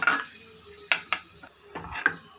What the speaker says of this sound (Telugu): 1 స్పూన్ మినపప్పు, ఇలా వేసి కొంచెం ఫ్రై చేయాలి.